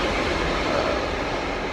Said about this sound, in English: we're in a train station, so you can hear the train going in the background